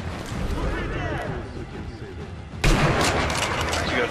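Gunfire in the Sniper Elite v2 video game, heard as a dense, loud stretch of shots and blasts that jumps sharply in intensity partway through, with a player talking over it.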